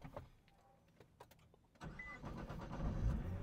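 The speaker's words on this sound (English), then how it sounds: "I'm gonna go ahead and turn the GTR on." A stock Nissan GT-R is started: a few quiet clicks and relay ticks, then the engine cranks and catches about halfway through, settling into a rising, steady idle rumble close by.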